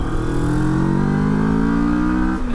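A 2023 Moto Morini X-Cape adventure motorcycle engine revving up, its tone climbing smoothly and steadily as the revs rise, loud and close, with no voices.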